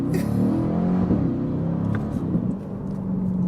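A C8 Corvette pulls away hard from a stop, a loud, deep engine roar that stays strong and sustained, heard close from inside the car with no talk.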